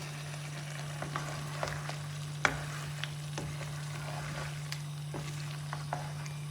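Chicken for a green hariyali karahi frying in oil in a pan, with a steady low sizzle and a scatter of scraping stirs from a spoon, heard close with no voices over it.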